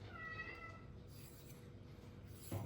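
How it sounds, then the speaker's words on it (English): A domestic cat meows faintly once or twice in a quiet indoor room, with a soft thump near the end. "That's the sound of my cat"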